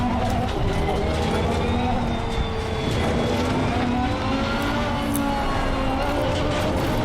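In Assetto Corsa Competizione, a GT3 race car's engine drones continuously at Misano, with rising and falling pitch as the car accelerates and shifts and rivals pass close by. A voice speaks briefly over the steady engine noise.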